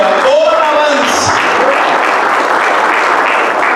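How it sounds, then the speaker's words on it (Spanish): A church congregation applauds loudly and continuously, a dense wash of clapping, with a voice calling out over the start. "Dale fuerte ese aplauso al que nos ganó"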